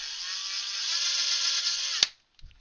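A power drill whines at a steady high pitch as it bores through card for a homemade reusable 3D-printer filament spool, then cuts off abruptly with a sharp click, followed by a soft clatter.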